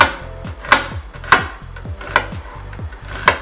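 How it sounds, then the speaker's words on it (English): A knife slices an onion on a board with six evenly spaced, crisp chopping strikes, close and loud with no talk. "So I'm taking half slice of the onion"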